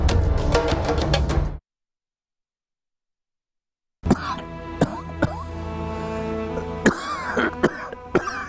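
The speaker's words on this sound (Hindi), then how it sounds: "कितनी खांसी हो रही है" A dense burst of coughing with a voice mixed in, then a few seconds of silence, then more coughing and throat sounds continuing close by.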